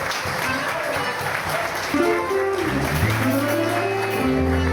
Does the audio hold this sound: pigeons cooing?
no